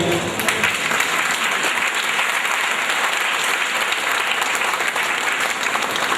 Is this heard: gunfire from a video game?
no